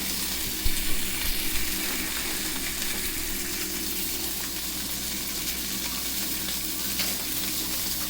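BBQ pork chops in barbecue sauce sizzle and fry in a pan on a stovetop, a steady close crackling hiss that runs the whole time with a few soft stirring bumps near the start.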